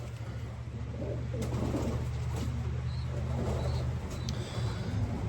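Young pigeons in a loft give soft, low cooing and faint chirps over a steady low hum, close by and continuous, with no talking.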